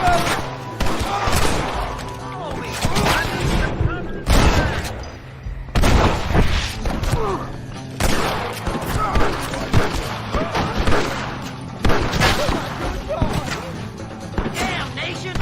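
Gunfire in the video game Red Dead Redemption cracks out in repeated bursts and single shots, loud and close, with a voice talking between and over the shots.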